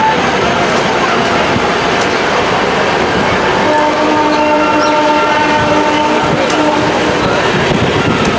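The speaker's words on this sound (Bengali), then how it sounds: "আমাদের ট্রেন ছেড়ে দিল ঘুষখুড়া জংশন।" A passenger train pulls out of Ghuskara junction, its loud continuous rumble and rattle of wagons on the rails running throughout, with steady tonal hums rising partway through.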